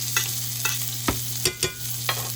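Filet mignon being basted with aromatics in a hot pan, a steady close sizzle with a handful of sharp spoon scrapes and clinks against the pan, no talking.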